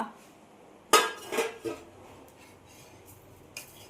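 A plate being picked up in a home kitchen gives one sharp ceramic clatter, then two or three smaller clinks of dishes and cutlery, close and moderately loud over quiet room noise, with a faint last knock near the end.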